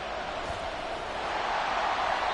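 Stadium crowd at an NFL football game, a steady, broad roar of many voices that holds and swells slightly toward the end.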